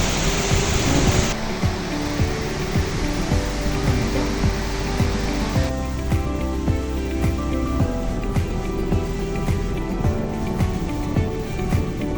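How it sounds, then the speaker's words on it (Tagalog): Loud, strong wind buffets the microphone in heavy, rumbling gusts over a steady roar of rushing water at Daday Falls, Alamada, North Cotabato. "Sobrang lakas ng hangin."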